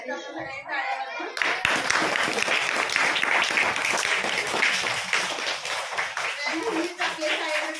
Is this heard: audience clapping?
yes